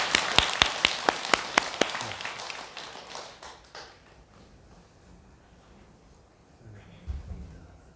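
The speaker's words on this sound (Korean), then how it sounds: "박수로." An audience at a Buddhist dharma service breaks into applause, crisp claps that fade out after a few seconds into quiet room tone, followed by a faint voice near the end.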